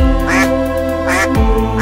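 A cartoon duck in a Balinese folk-tale animation gives a series of loud, nasal quacks in a quick broken rhythm, close and clear over a sustained musical backing, with no talking.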